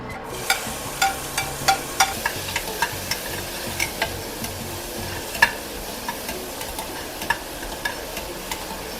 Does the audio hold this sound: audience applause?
no